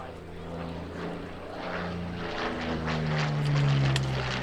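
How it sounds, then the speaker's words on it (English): A P-40 Warhawk propeller fighter makes low passes at an air show in Orange County, New York, its engine droning steadily and rising in pitch and loudness as it approaches. "he's showing you the excellent turning and flight characteristics of this beautiful and historic Warhawk aircraft"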